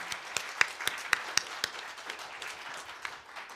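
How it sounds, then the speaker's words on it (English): Audience applause at a songwriters-in-the-round concert, a small crowd clapping with distinct individual claps, fairly faint and thinning out over a few seconds. "So a round of applause for those folks"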